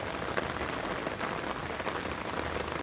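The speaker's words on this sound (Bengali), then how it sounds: "তারপরে খুব জোর বৃষ্টিও নেমে গেছে।" Heavy rain pours steadily in the Himalayan hills of Sikkim, a dense, even hiss of drops hitting surfaces, constant and moderately loud throughout with no voices.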